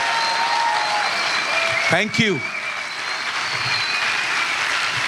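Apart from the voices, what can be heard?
audience applause for Jesus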